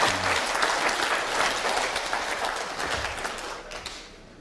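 A lecture audience applauding, a dense steady patter of many hands clapping at close range that gradually thins and fades toward the end.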